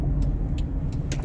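Engine of a 1992 Toyota Corolla DX, an aging car struggling to accelerate, droning as a steady low rumble from inside the cabin with a few faint high clicks over it.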